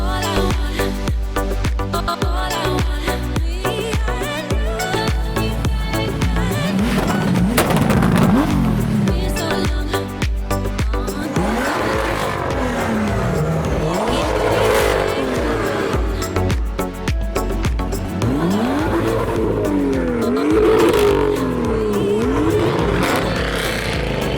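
A Mercedes-AMG engine revs repeatedly at a European car rally outside a castle, loud rising and falling blips over a steady idle, with other car engines and some voices nearby.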